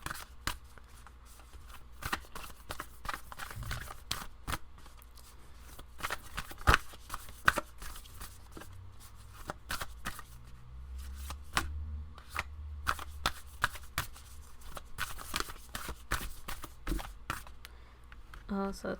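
A deck of tarot cards is shuffled by hand at close range, producing repeated quick riffles and soft slaps in irregular bursts across a long stretch, with a quiet background.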